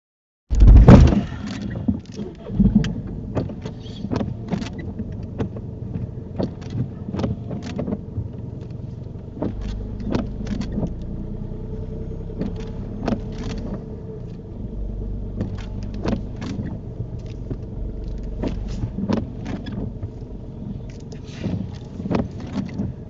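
A car on a UK driving test rolls along and comes to a stop, its low engine and road rumble steady throughout with repeated clicks and knocks from inside the cabin, and no talking.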